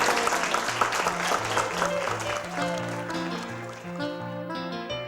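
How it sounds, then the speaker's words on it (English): A crowd applauds new Junior Rangers at Acadia National Park in Maine, a dense, steady wash of clapping with music playing underneath that carries on as the clapping thins. "Big round of applause."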